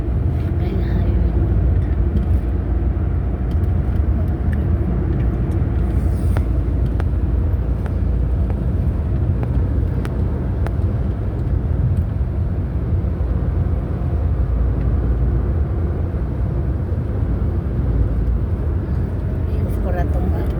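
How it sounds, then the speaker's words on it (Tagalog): Steady broad rumble of highway traffic, continuous and fairly loud throughout, heard from a roadside viewpoint with people talking over it. "Ay, highway."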